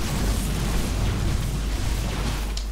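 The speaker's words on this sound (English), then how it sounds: "Yamato cannon sounds awesome." The StarCraft II Yamato cannon fires in a continuous, heavy, rumbling blast with a deep low-end roar that holds steady at full loudness across the whole stretch.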